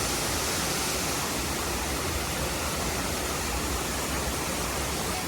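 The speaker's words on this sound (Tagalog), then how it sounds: "That is the Dathun waterfalls." Dathun waterfall in Yangmingshan National Park, Taiwan, gives off a steady, dense roar of falling water that fills the whole scene without change and with no voices.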